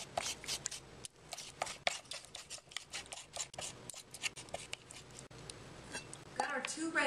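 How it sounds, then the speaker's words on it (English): A knife finely chopping roasted red peppers on a board gives rapid, steady close taps that keep going throughout, with a person talking over the chopping. "Now we're just going to chop our peppers very finely"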